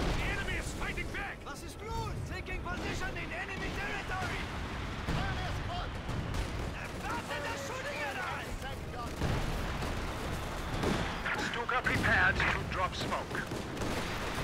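Artillery and airstrike blasts rumble through a Company of Heroes 2 battle in Lienne Forest, booms and scattered gunfire rolling under frequent chatter from players.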